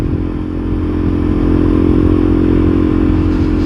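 Several big motorcycles ride past on a warm, sunny Yorkshire road, one running a bit rich, their engines a loud, steady close drone with clattering and revving throughout.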